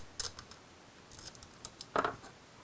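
Scissors snip colorful tape with a few quick, close, faint cuts and light crinkling in a quiet room.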